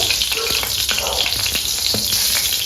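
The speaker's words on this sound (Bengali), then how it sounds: "বাড়তি যে তেলটা ছিল ওটা দিয়েই মাছ ভাজাটা করবো" Fish frying in leftover oil gives a loud, close, continuous sizzle with crackling pops across the short stretch.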